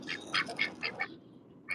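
Two ducks quack in quick, uneven bursts nearby, several nasal calls tumbling together, then a pause and one more quack at the end.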